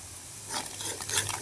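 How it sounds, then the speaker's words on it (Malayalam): Chili powder being stirred into food in a pan, a soft close scraping with a light sizzle underneath, rising briefly over a second and a half. "നല്ല ഇളക്കി കൊടുക്കുക"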